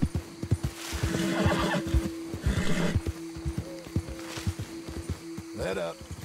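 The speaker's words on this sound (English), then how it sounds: "the horse is here." In Red Dead Redemption II, a horse neighs loudly and close by, with a rising whinny and snorts. Hooves clip-clop underneath, and a voice talks over parts of it.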